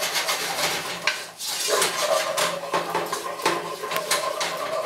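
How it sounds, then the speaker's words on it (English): Flour is stirred into melted butter in a pan for a macaroni cheese sauce, giving a steady scraping, rubbing rhythm of spoon against pan with soft taps, close and clear with no talk. "So just mixing that flour in."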